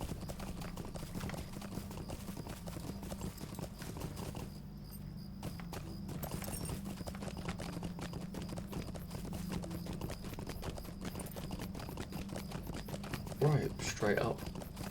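Steady clip-clop of horse hooves from a medieval-style video game, a continuous rhythmic trot mixed with game ambience and faint clicking, with a short louder burst near the end.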